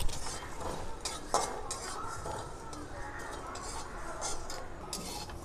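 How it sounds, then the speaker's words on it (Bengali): Whole coriander seeds and cumin dry-roasting in a pan for a Bengali drumstick fry, with steady scraping and stirring, light rattling of the seeds and utensil clinks throughout, close and moderately loud. "গোটা ধনে দেব, আর দেব জিরা, দুটোকে একসঙ্গে ভালো করে ভেজে নেব।"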